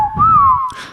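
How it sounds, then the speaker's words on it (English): A Clangers character from the TV series gives a single clear, loud, swooping whistle that rises and then slides downward, ending with a burst of breathy noise. "It was only translated into the audible whistles"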